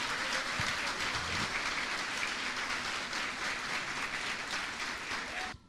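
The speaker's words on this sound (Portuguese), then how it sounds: "Aplauda Jesus Cristo." A church congregation applauding, steady dense clapping at moderate distance that holds evenly for several seconds and then stops abruptly.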